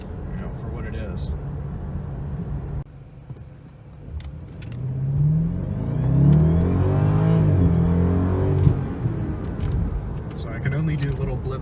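A 2014 BMW 650i M Sport Coupe engine gives short rev blips while driving, rising and falling once or twice under steady road and cabin noise, with a person talking over it.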